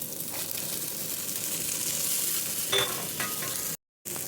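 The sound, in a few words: masala with coconut frying in a pan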